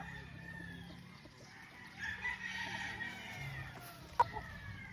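A Gilmore gamefowl rooster on a farm crows once at a moderate distance, a drawn-out call over quiet outdoor background, followed by a sharp brief knock.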